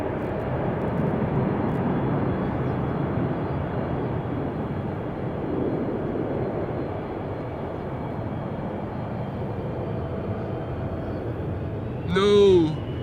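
A twenty-year-old KLM Boeing 777-200 taking off from Amsterdam Schiphol, its heavy jet roar sustained and fairly close, easing slightly midway, with a brief sharp chirping sound near the end.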